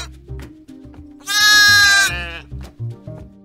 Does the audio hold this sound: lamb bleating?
yes